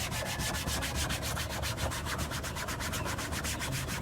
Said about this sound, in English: This is the easy part, which is just scrubbing the plastic